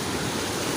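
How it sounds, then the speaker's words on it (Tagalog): Big ocean waves break along Sabang Beach by the boulevard, a dense, unbroken wash of surf roaring close and loud for a brief moment with no voices. "lalaki ng mga alon"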